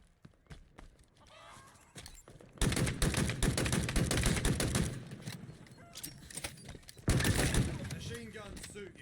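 Rapid automatic gunfire bursts from a machine gun in a Halo Infinite Big Team Battle match, loud sustained volleys in two long stretches with brief shots before, mixed with game effects and a voice talking.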